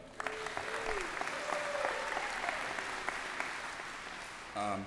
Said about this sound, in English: So can you all give each other a round of applause for that.